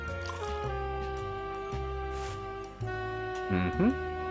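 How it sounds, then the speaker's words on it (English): A paper cup is filled at a water cooler in the video game Loco Motive, with a short bubbling, gurgling pour near the end over steady looping background music and no talking. "let's grab a paper cup. I'll just grab a cup of water."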